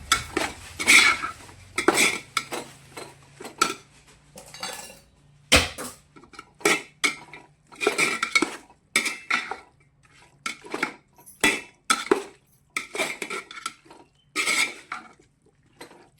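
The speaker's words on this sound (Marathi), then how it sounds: "चांगलं एकदम असं हलवून घ्यायचं चांगल्या पद्धतीने." A metal spoon scrapes and clanks against a pot while chicken dum biryani with chillies and mint is stirred, giving irregular repeated knocks and scrapes close up with no talking.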